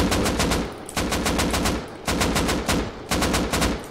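Rapid bursts of gunfire in a survival video game come in four tight strings of shots separated by brief gaps, loud and close with no voices over them.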